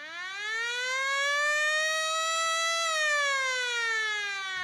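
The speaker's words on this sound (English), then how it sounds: "There's the siren to not only end our period" A single long hockey period-ending siren wail rises slowly, holds steady, then falls away, loud and sustained over a quiet background.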